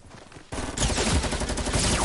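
Submachine gun fire in a video game: a quiet start, then from about half a second a dense, loud and continuous rattle of rapid shots that runs to the end.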